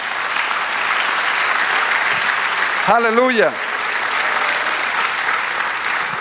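Loud, steady applause from a church congregation fills the whole stretch, while a pastor briefly calls out over it midway.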